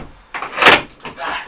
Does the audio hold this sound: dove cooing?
no